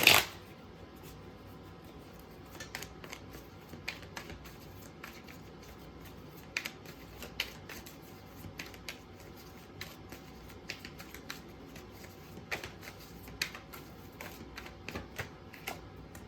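Tarot cards are shuffled by hand, producing soft, scattered riffling flicks and light taps, quiet and close, with no talking.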